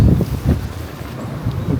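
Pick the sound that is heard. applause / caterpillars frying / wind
wind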